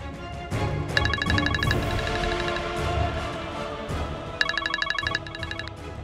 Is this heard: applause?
no